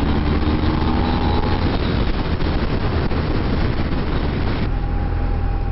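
A 2019 BMW R1250R motorcycle pulls at full throttle from 50 km/h in sixth gear, its engine drone buried under loud, constant onboard wind rush while riding, with no talking.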